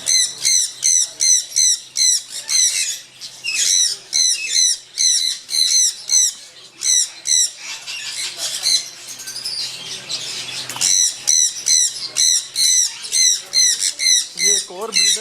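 Sun conures and ringneck parakeets in a breeder setup squawking loudly and close in rapid repeated shrill calls, a near-continuous pulsing chorus with someone speaking briefly beneath it.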